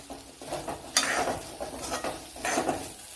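Chopped ginger and curry leaves fry in a pan with coconut for an egg curry, with a soft sizzle under sharp clinks and scrapes of a spoon stirring against the metal, close up and with no voices.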